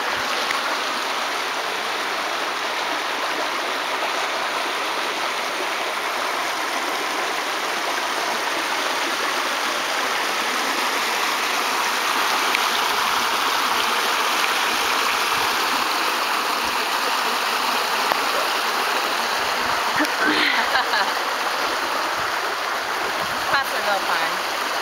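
A creek flows steadily nearby, a broad continuous rushing wash of water with no breaks, while people talk faintly in the background.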